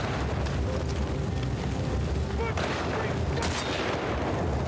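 Gunfire in The Last of Us Part 2 booms amid dense, continuous roaring combat noise, loud and unbroken, with heavy blasts blending into the din.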